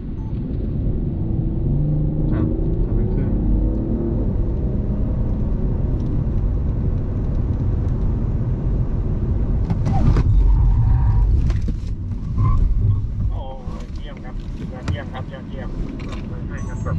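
A Mercedes-Benz S 580e plug-in hybrid drives on the track at Chang circuit in Buriram, a loud low rumble with wind buffeting that surges near the middle, while someone talks over it.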